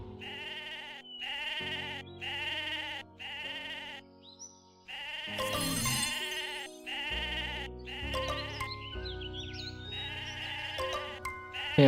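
Sheep bleat repeatedly in the Mabinogi video game, giving a series of clear, close, rhythmic bleats with brief gaps between them, backed by game music and chimes.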